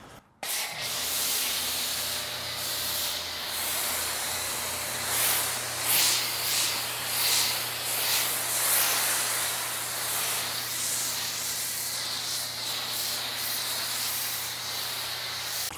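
A foam sprayer blasts undiluted CarPro Hydro2 car wash soap onto a car in a steady, loud, hissing spray. It runs continuously for about fifteen seconds with slight surges, with no talking.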